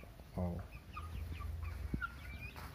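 Fighting chickens cluck and give short throaty calls at close range in a poultry pen with rice-husk bedding, over a low background rumble.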